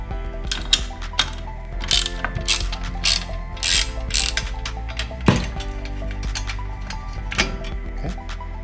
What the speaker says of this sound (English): Go ahead and remove this front bolt here.